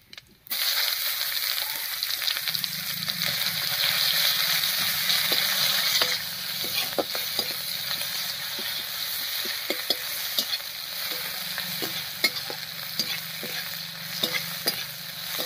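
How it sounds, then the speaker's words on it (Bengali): Chopped onion and whole cumin frying in hot oil, a loud continuous sizzle close up, easing slightly midway, with frequent stirring clicks and scrapes and no talk. "পেঁয়াজটা একটু ভাজা ভাজা মতো হয়ে গেছে।"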